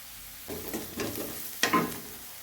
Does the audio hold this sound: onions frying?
yes